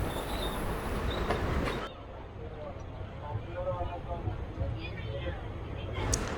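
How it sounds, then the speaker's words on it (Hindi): Narmada Express train pulling out of Amlai railway station, with a steady rumble of wheels and carriages, a brief squeal, and faint voices talking over the train noise. "और हमारी ट्रेन अमलई रेलवे स्टेशन से निकल चुकी है"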